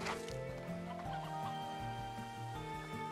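Chickens cluck in the Slime Rancher video game, repeated short clucks over a looping melodic game music bed, fairly quiet and steady.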